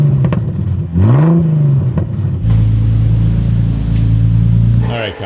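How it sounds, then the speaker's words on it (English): A Nissan VQ engine is started and revved a couple of times, its exhaust note swelling and dropping, then settling into a loud, steady rumble. "We need an exhaust note, so start her up and give us a little couple womps"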